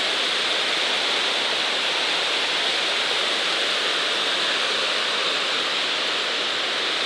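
A wilderness river rushes over rocky cascades in a steady, dense roar with no letup, loud and close, and no voices.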